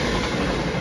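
Passenger train departing Crewe station for London Euston, a loud, steady rumble of wheels and carriages rolling close by, with no voices.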